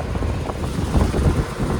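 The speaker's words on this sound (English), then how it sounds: "Oh, it's so windy" Strong wind on a farm buffets the microphone with a low, continuous rumble and gusty flutter.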